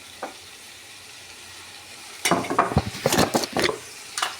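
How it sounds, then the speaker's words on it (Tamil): Tomatoes sautéing in a hot pan: a soft, low sizzle at first, then a burst of loud scraping stir strokes and crackling in uneven clusters over the last two seconds, close up with no talk. "இப்போ தக்காளி போட்டுக்கோங்க. தக்காளி நல்லா வதங்கட்டும்."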